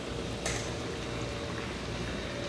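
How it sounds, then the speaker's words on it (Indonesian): Potatoes fry in hot oil, giving a steady, dense sizzle and crackle close by with a brief louder burst near the start and no voices. "sekarang lagi proses goreng kentang Bunda di sini ya"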